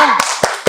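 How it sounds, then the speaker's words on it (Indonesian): Students in a classroom perform a rhythmic salute clap, three distinct, loud, close claps spaced evenly apart after a short stretch of voices. "kita kasih tepuk salut dulu yuk"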